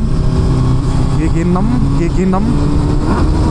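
A Kawasaki Z900 SE motorcycle pulls hard in sixth gear, its engine note rising in a loud continuous drone with wind rush, while a rider's voice briefly calls out over it.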